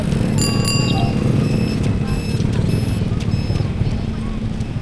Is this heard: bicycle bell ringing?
yes